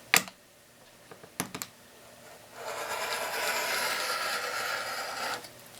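Quilt fabric is cut along a cutting mat: a few sharp clicks come first, then a steady scraping cut lasts about three seconds before stopping.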